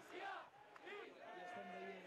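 A crowd of Catalan independence supporters gathered outside the Parliament, a dense mass of voices with shouted cries rising and falling, loud and close throughout the short stretch.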